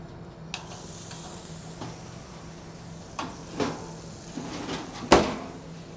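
Pre-cooked steaks laid into a hot pan sizzle softly and steadily, while scattered clatters and knocks of kitchen utensils break through now and then, one louder clank near the end, with no speech.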